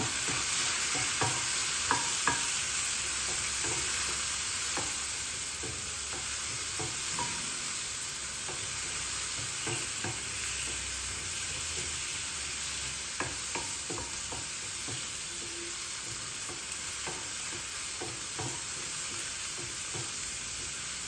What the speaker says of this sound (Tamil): வெங்காயம் வந்து கொஞ்சம் வதக்கியாச்சு